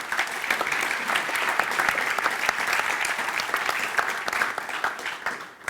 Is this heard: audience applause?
yes